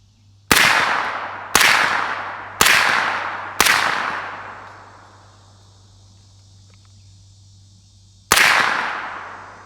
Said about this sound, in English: first shots will be with the ZF5 unsuppressed 115 grain Monarch